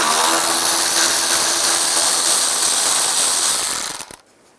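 A ratchet turns out a headlight screw on a 2005-15 Nissan Xterra, a steady run of close mechanical clicking for about four seconds that stops abruptly into quiet.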